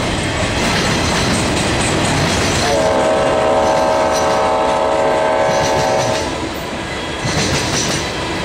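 A Norfolk Southern train led by an ex-Norfolk and Western GP50 locomotive rolls past loudly and up close, its old N&W air horn sounding one sustained blast over the steady rumble and clack of the rail cars.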